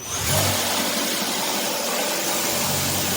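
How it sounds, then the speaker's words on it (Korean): A used car's engine runs steadily with a broad mid-range rumble and hiss, slightly revving at the start, then holding a constant drone throughout. "들어왔다 엔진 소리."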